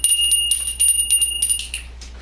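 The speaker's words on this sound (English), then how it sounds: "we'll do the little bell and go to the next slide" A small hand bell rings in a rapid series of bright, high tinkling strikes, then trails off, close and clear with no talking.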